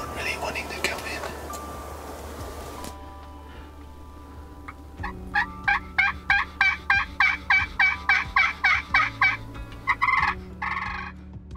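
Wild turkeys in Oregon gobble from a distance in a long run of rapid, rhythmic gobbles, followed by a few more bursts. Low whispered talk comes first, then fades under the calls.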